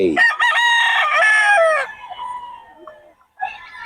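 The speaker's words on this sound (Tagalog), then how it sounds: "puro solid ang mga manok ni boss Albert" A rooster crows loudly and close by, one long drawn-out call, followed by a quieter cluck or short call at the end.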